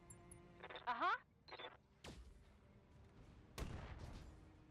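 Mech weapons fire during a BattleTech battle, with a burst of warbling energy-weapon zaps and then two sharp, heavy booming impacts spaced a second or so apart, fairly faint overall.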